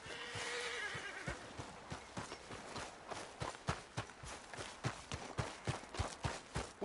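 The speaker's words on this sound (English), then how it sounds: "What's wrong with this horse?" Horse in a video game whinnying loudly at the start, followed by a steady run of clip-clop hoofbeats that grow stronger and more regular, fairly close.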